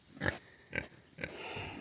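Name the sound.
little pigs on a farm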